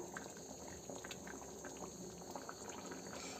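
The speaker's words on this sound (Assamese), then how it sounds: "এতিয়া জোখমতে পানী দি ভালদৰে উতলিবলৈ দিম।" Fish curry with white mustard paste boils in a pot, producing a soft, steady bubbling and gurgling that stays fairly quiet and even throughout, with no voices.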